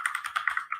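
Rapid, even clicking of keys on a computer keyboard, about eight crisp taps in quick succession, close and alone without talk.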